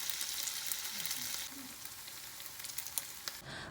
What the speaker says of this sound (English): Once it's heated, add the sausages. Stir from time to time until the sausages turns into brown color.